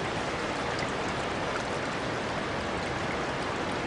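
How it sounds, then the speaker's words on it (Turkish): A mountain stream runs beside an avalanche site with snow around, giving a steady, dense rushing of water that stays even throughout with no voices. "Dere akıyor."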